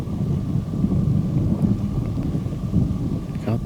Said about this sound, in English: God, the weather, we're going to have a huge storm coming.